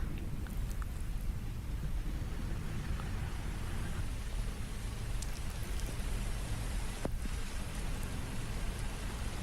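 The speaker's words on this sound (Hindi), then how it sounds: "भोपाल में आफत की मूसलाधार बारिश इस वक्त हो रही है" Torrential rain pours down in Bhopal, a dense, constant roar of water hitting surfaces that stays loud throughout, with a few sharp drips and knocks standing out and no voices.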